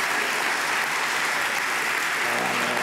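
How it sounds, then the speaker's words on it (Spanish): Steady, dense applause from a television quiz show studio audience, loud and sustained for the whole stretch with no voices standing out. "un aplauso para Carlos Sopera."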